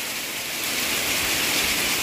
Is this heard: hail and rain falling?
yes